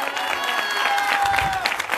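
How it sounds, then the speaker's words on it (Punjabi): Congregation applause at a Good Friday church meeting, steady mid-loud clapping for about two seconds with a sustained tone running underneath. "ਤਾਲੀ ਵਜਾ ਦਿਓ,"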